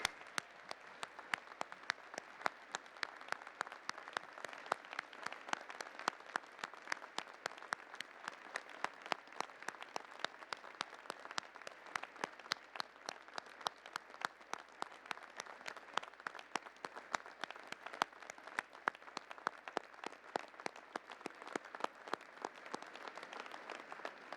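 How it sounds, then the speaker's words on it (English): Steady applause from a large convocation audience at a university graduation ceremony, dense continuous clapping held at an even level throughout, with no voices rising above it. "Please rise and give everyone, parents, a round of applause."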